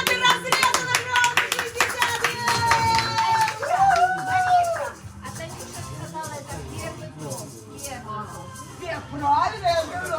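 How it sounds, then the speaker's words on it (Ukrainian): Clapping from a small group mixed with lively chatter and voices, with a sung or drawn-out vocal tone partway through. "Аплодисменты!"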